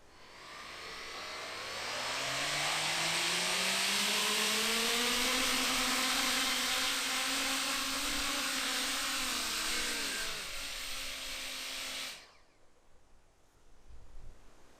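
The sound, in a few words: Coanda effect drone motors running during first test flight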